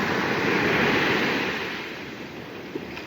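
Beach surf rolling in as a steady broad wash of waves, close and fairly loud, with wind noise and no voices.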